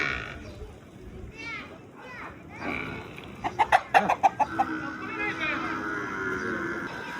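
A rooster bursts into rapid clucking close by, a quick series of sharp calls, with voices talking before and after.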